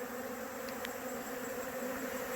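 Honey bees shut inside a hive with the entrance blocked, a steady low droning hum of many wings, continuous and close, faint overall with a couple of brief higher buzzes from single bees.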